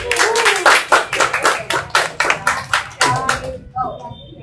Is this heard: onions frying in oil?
no